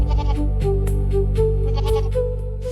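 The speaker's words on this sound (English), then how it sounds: "there are goats all over this island" Goats on Socotra island bleat several times in short, wavering calls, fairly close and clear over a steady low background hum.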